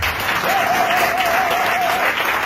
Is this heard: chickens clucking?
no